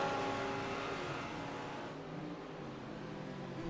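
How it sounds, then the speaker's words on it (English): Lamborghini GT3 race car from the Kevin Simpson Sports Vision 2020 team in a sim racing endurance series, a faint engine drone with tonal harmonics, steady then fading slightly as it passes. "There comes the Kevin Simpson Sports Vision 2020 Lamborghini."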